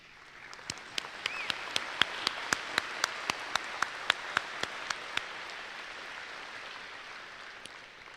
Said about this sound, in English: so we can give you a round of applause